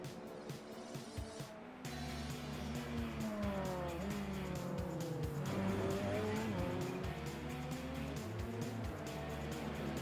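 Race cars in iRacing at Laguna Seca roar past in a loud, sustained engine drone, with rising and falling revs and tire squeal as the field crosses the line. No one speaks.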